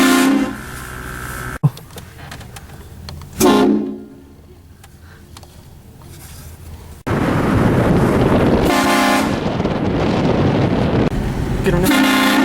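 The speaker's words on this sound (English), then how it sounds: "we're gonna train horn the fuck out of some people" Train horn mounted on a vehicle blasts at passersby as a prank, several loud toots with harmonic bands, separated by quieter traffic and street noise, with people talking briefly.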